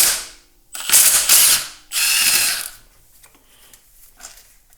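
Ratchet or power tool loosening bolts on a Subaru EJ20K engine from a GC8 WRX/STI, with two loud bursts of rapid mechanical whirring and clicking close by, then quieter fiddling and small metallic clicks.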